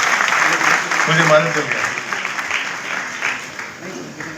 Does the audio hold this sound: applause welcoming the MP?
yes